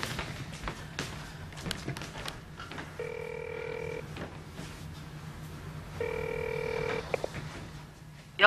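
A landline rings twice in a Korean family home, two one-second electronic ring bursts spaced a few seconds apart, faint over soft room noise and light thumps.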